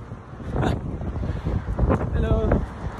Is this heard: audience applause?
no